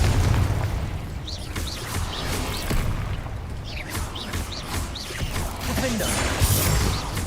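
Confringo explosive spell cast in the video game Hogwarts Legacy, with repeated booming blasts and crackling bursts mixed into busy combat effects and music, loud and dense throughout the stretch.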